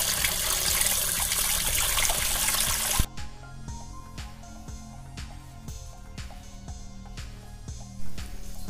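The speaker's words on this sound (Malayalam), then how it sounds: "നമ്മൾ നല്ലോണം വെള്ളം ഒഴിച്ചിട്ട് വേണം ഇത് കഴുകിയെടുക്കാൻ." Water gushes loudly over pressure washer parts for about three seconds as they are rinsed, then stops, leaving quieter clicks and handling sounds.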